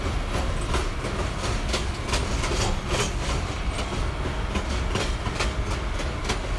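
A full-length subway train on a shuttle line runs past steadily, wheels clacking in a repeating rhythm over a loud, continuous rumble and rattle of the cars.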